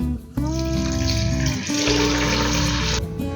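Water pours into a cooking pot for Kashmiri hareesa, a loud continuous splashing gush that starts abruptly, dips briefly midway and then cuts off near the end.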